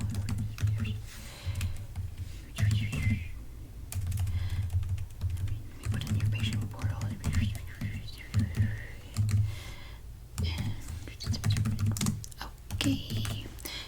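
Close, steady computer-keyboard typing in a clinic office, running in quick bursts of clicks with brief pauses throughout, soft and intimate.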